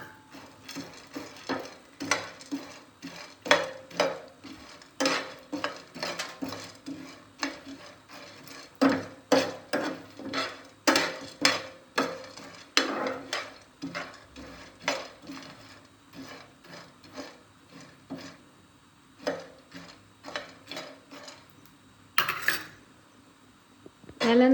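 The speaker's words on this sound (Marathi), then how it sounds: "आता पंपकिन सीड आणि सनफ्लावर सीड आहे ना मिक्स भाजून घेऊ." Pumpkin and sunflower seeds dry-roasting in a pan, stirred steadily so the seeds rattle and a spoon clinks and scrapes in quick rhythmic bursts, close and fairly quiet with no talk.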